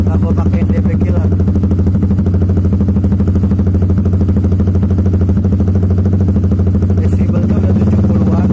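A Honda Supra GTR motorcycle with a ProLiner exhaust and dB killer idles steadily up close, a continuous low throbbing putter with faint clatter, and a voice speaks briefly over it.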